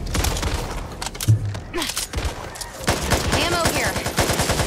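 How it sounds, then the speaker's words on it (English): Shotgun blasts from the zombie shooter game Back 4 Blood ring out amid dense, loud in-game combat noise, with rapid overlapping gunfire and a player calling out over the action. "Shotgun!"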